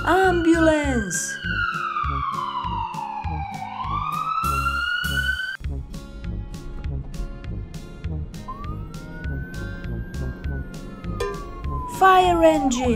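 A fire engine siren sounds in long rising and falling wails, loud and near, over a steady rhythmic background with short warbling bursts.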